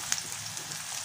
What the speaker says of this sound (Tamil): எண்ணெய் சூடானதும் இதில் கொஞ்சமாக கடுகு, அதுக்கப்புறமா நறுக்கி வச்சுருக்க ஒரு பல்லாரி வெங்காயத்தை சேர்த்துக்கிறலாம்.